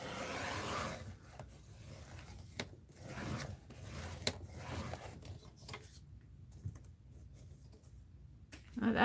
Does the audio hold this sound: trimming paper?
yes